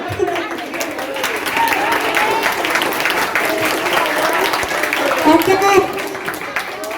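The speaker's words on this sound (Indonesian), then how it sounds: "Tepuk tangan." School audience of eighth-grade students applauding during a presentation on turning plastic waste into ecobricks, a full, continuous burst of many hands clapping with crowd murmur and voices mixed in, fairly loud and close throughout.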